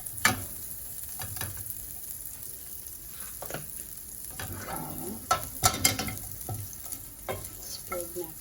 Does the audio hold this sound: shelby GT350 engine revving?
no